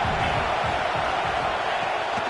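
A football stadium crowd roaring in a steady, loud, dense wash of noise early in a game, with no distinct voices standing out.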